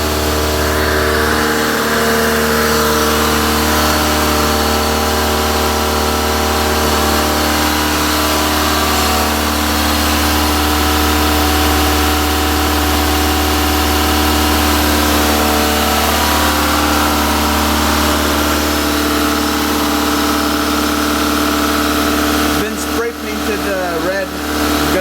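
A Toyota AE86 Corolla GT-S engine runs steadily just after starting, a loud continuous idle hum with a fan-like drone that holds for the whole stretch, with a brief disturbance near the end.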